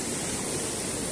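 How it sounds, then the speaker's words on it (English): A mountain river in Dhorpatan, Nepal rushes steadily at close range, a dense unbroken hiss of flowing water with no variation and no voices. "This is the river."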